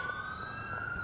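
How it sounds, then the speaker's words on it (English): In the video game GTA IV, an ambulance siren sounds as a steady high wailing tone, fairly faint and distant, over a low background rumble for about a second. "Ambulance."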